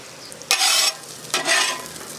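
Fries cooking in olive oil on a Blackstone Adventure 17-inch griddle, heard as two loud bursts of sizzling and scraping as the food is stirred, set against a quieter steady fry, with no voices.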